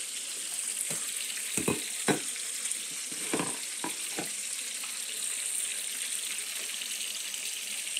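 Chicken wings deep frying in bacon fat, giving a steady dense sizzle and crackle with a few soft knocks and clinks in the pan.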